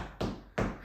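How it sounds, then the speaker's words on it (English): Two sharp knocks on wood, evenly spaced and close, each a short hollow tap that fades quickly, with nothing else heard around them. "I need to knock on wood."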